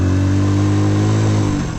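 A motorcycle engine idles loudly and close by at Muktinath, Nepal, with a steady low throb, then its pitch drops slightly as it winds down at the end.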